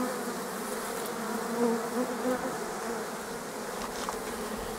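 Honey bees on a hive frame give off a dense, steady buzzing drone that swells slightly midway, close and continuous with no talk.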